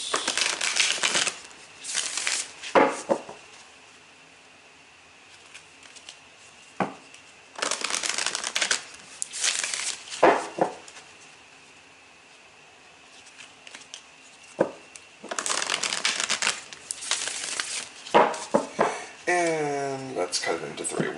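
Three rounds of affirmation card shuffling, each a dense papery riffle lasting a few seconds, separated by quieter pauses, close up.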